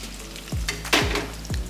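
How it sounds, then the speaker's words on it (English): Ripe plantain slices dropped into preheated oil, each landing with a sharp hiss that swells into steady frying sizzle; three separate additions in quick succession, close and fairly loud, with no talking. "What we'll be doing is just frying the plantains."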